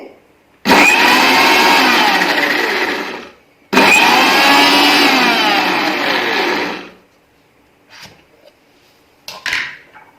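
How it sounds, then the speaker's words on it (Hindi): A countertop blender pulses tahini and lemon juice for hummus in two loud, sustained bursts of about three seconds each, followed by a few faint clunks as it stops. "अब इन दोनों चीजों को अच्छे से ब्लेंड कर लेंगे। इन्हें पल्स पे 2-3 बार ब्लेंड करेंगे।"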